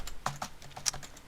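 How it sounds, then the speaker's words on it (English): Quick bursts of keystrokes on a computer keyboard, several crisp clicks in an uneven rhythm, close and fairly quiet with no talking, as a player types a name into a Minecraft block's menu. "I'm going to type CosmicCop"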